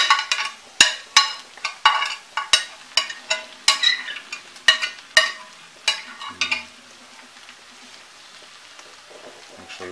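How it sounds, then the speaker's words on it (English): Onions and tomatoes cook with chorizo in a pan, with a rapid series of sharp scraping and stirring knocks over a soft sizzle that quiets toward the end. "Let's go ahead and throw in our onions and our tomatoes."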